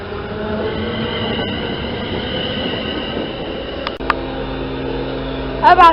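A Class 170 fast train runs through a station platform with a steady rolling rumble and wheel noise, then a change in tone as it passes and a brief squeal near the end; a voice may be faintly present.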